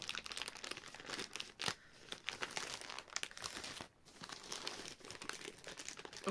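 A small sealed bag torn open by hand: a steady run of close, crisp crinkling and ripping plastic with brief pauses, no talking.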